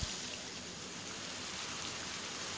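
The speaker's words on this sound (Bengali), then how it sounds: "এখন আমি কড়াইতে তেল দিয়ে মাখানো মাংসটা দিয়ে দিলাম।" Marinated meat fries in oil in a wok over medium heat, a steady even sizzle like light rain that stays constant and close throughout, with no talking.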